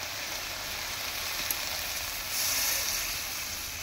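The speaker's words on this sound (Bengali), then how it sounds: "এই যে হালকা ভেজে নিয়ে এখন জল দিয়ে দিচ্ছি" Water poured into a pan of hilsa fish curry with green chillies sets off a steady, close hiss of sizzling that swells briefly near the end, with no talking.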